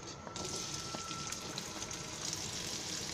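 Onion dropped into hot oil in a kadhai hisses in a soft, steady, fairly quiet sizzle that starts after a brief pause and carries on evenly to the end, with no talking.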